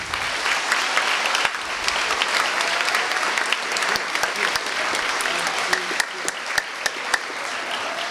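An audience at a teacher of the year ceremony in Connecticut applauds at length, a dense continuous wash of many hands with a few sharper nearby claps standing out, with a voice faintly audible beneath.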